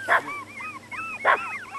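Chihuahua puppies out on a walk yip in two sharp bursts, each trailing into thin whining whimpers, close and fairly loud with no talking.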